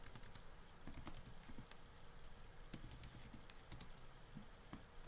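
Quiet, steady typing on a computer keyboard, a run of soft, irregular key clicks and taps at close range with no voices over them.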